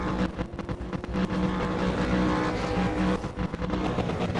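Super2 V8 race car engines in a racing simulator drone and rev continuously at close range, a steady buzzing roar with small surges and no pauses.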